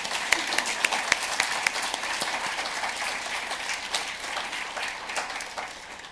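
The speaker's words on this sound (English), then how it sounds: "So I'd really like to give Suzanne a huge round of applause." An audience gives a round of applause at a team update gathering: dense, crackling clapping at steady loudness for six seconds, with a few sharper claps standing out early on before it slowly thins.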